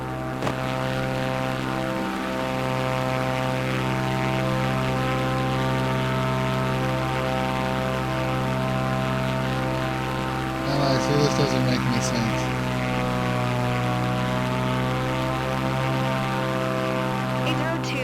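A propeller airplane engine in a flight simulator video game drones steadily throughout, with layered harmonic hum, while a voice speaks briefly over it.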